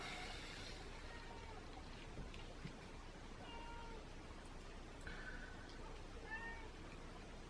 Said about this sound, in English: You guys can probably hear my cat crying.